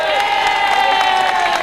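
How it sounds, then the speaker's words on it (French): A large outdoor crowd at a choir event on a grand city square cheers and applauds loudly and continuously, with whoops and shouts rising above the dense roar. "Est-ce qu'on peut applaudir le Seigneur?"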